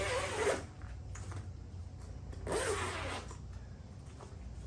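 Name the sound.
unzipping a bag of inflatable windsurf equipment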